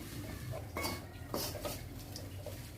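Scrambled shark fish stirred in a cooking pan, with a spoon scraping and clinking against the pan in a few sharp knocks over quiet, steady background noise.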